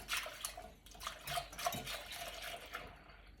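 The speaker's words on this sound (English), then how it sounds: "now I'm going to pour the rest of this in there." A yogurt mixture poured from one container into a bowl in a home kitchen: a steady, soft liquid trickle and splash lasting about three seconds with small irregular glugs, heard alone and fairly quiet.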